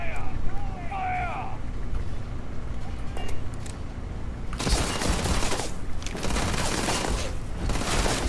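Gunfire erupts in the space game Starfield during a firefight at an abandoned research lab: a short stretch of ambient wind and distant pops gives way to sustained loud bursts of shots that continue to the end.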